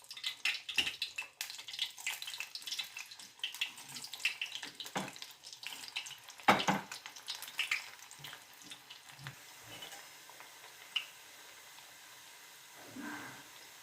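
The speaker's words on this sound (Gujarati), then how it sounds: "આપણે બીજી વાર ફ્રાય કરશું।" Moong dal vadi fry a second time in hot oil, giving a steady crackling sizzle with scattered pops and splashy bursts that fade toward a quieter simmer near the end, with no talking.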